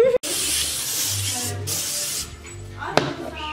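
A sustained hiss of aerosol spray runs in several bursts, with a short thump near the start and a brief click toward the end.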